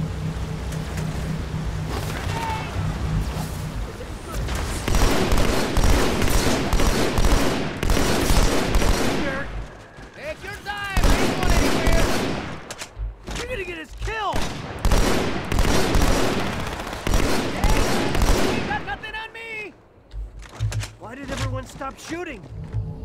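Bursts of gunfire from the Halo 2 video game ring out through most of the stretch, loud and close, alternating with voices talking over and between the shots.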